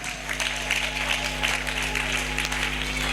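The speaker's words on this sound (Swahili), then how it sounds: "Piga makofi, piga mikono, piga mikono." A church congregation claps hands steadily and briskly, sustained applause filling the space with a constant low hum underneath.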